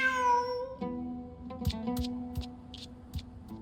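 A cat in the video game Genshin Impact lets out a clear, close meow, followed by soft scattered ticks and light taps with no talking.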